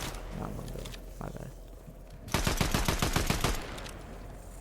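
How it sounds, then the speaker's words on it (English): Gunfire in the Fortnite battle royale game: a few scattered shots early on, then a fast burst of about a dozen loud, evenly spaced shots that ends abruptly, with no talk. "he shoots me with a shotgun and gets me killed"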